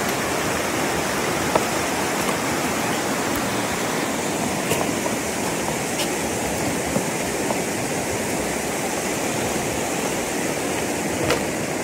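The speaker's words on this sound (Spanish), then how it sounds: "Miren cómo está el río aquí. Está fuerte la corriente en este lado." A strong river current rushes over rocks in a broad, constant roar of water, close and loud throughout, with no talking.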